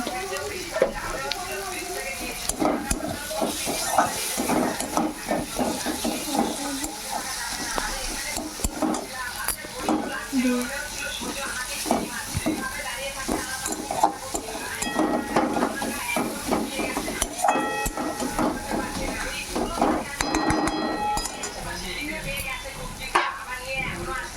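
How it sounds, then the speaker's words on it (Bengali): Tomatoes being stirred and mixed in a hot pan for a prawn malai curry, with a steady sizzle and repeated scraping and clinking of a spatula against the pan, loud and close throughout. "তো টমেটো এগুলো আমি ভালো করে মিক্সড করে নেবো"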